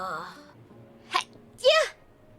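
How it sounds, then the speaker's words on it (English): A vtuber sneezes in two bursts, a sharp intake followed by a louder, longer sneeze, close to the microphone right after a bit of speech. "Another sneeze."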